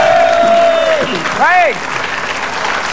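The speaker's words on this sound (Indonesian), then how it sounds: "Tepuk tangan" Studio audience at a television game show clapping under loud talk, a steady wash of applause behind a speaking voice and a brief swooping tone, close and fairly loud throughout.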